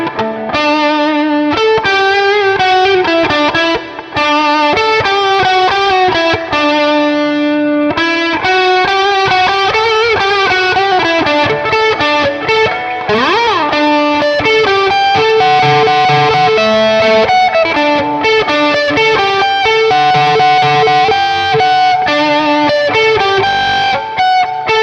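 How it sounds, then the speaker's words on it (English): Electric guitar on the neck pickup through AmpliTube 5 with a large reverb, playing sustained chords and melodic lines that ring and wash out continuously, loud and alone without talk. "That's a big old reverb"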